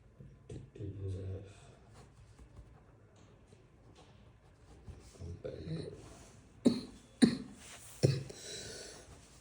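A person with acute fever and a sore throat coughs three times in quick succession, close and fairly loud, after a stretch of quiet murmured talk and breathing.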